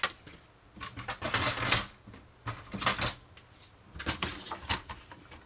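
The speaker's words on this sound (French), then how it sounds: "Donc, je vais couper sur ma dernière mesure." Scissors cutting paper for a scrapbooking pop-up folio, crisp close snips and rustles in several short bursts separated by brief pauses.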